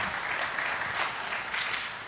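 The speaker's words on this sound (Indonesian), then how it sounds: "Tepuk tangan buat multimedianya" A church congregation claps for its multimedia team in a short, dense burst of applause that is steady and fairly loud for about two seconds.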